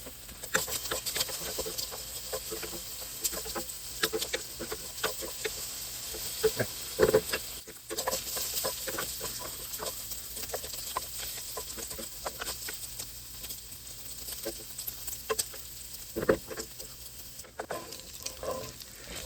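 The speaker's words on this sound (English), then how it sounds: "My bacon's starting to really start to crisp up here." Bacon crisps in a pan on high heat with a continuous close sizzle and dense popping patter, small spits and crackles scattered throughout, with no talking.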